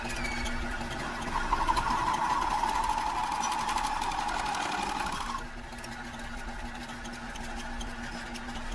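A steel motorcycle kick-start lever being machined on a lathe gives a steady, moderately loud mechanical whir with a rising tone, which drops to a lower, quieter hum about halfway through.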